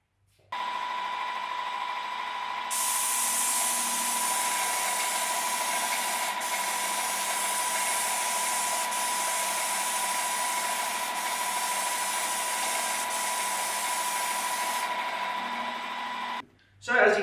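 Wagner TempSpray heated hose airless paint sprayer spraying steadily at 1400 psi, a loud continuous hiss with a mechanical hum underneath that runs unbroken for about fourteen seconds before cutting off.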